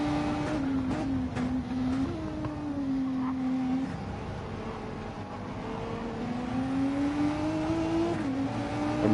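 GT race cars in a sim racing game accelerating hard out of a hairpin on the Daytona road course, engines climbing through the revs with gear-shift steps, a close, steady, loud roar with no talk.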